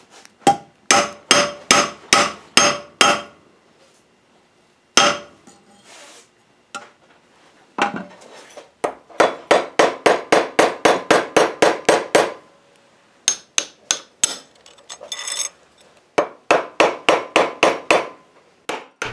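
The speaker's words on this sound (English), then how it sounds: "I just cut a short section of pipe and forged on it a bit to make it look more handmade." Hand hammer blows forging a short section of metal pipe into a ring, sharp metallic strikes in quick rhythmic runs of several hits separated by short pauses, close and clear with no voices.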